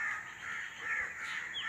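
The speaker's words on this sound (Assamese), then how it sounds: "কাকা শব্দ হৈয়ে আছে" Crows caw in a village in the early morning, a brief run of harsh, overlapping calls at moderate distance with no other sound.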